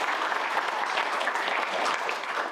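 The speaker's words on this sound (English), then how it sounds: "So I would love to give this panel a round of applause." Audience applause for a panel at a boarding school Q&A event, a steady dense wash of many hands clapping at moderate level throughout, with no talk over it.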